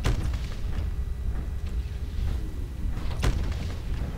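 Mech weapons firing in the MechWarrior Living Legends video game, a few dull booming impacts and a sharper blast near the end over a low rumbling battlefield background, with no speech.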